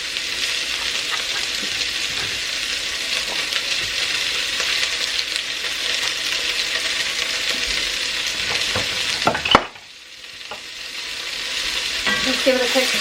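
Carrots, potatoes and celery sizzle steadily in a hot pot for about ten seconds, then the noise drops sharply as they are stirred, and the sizzle slowly builds back up.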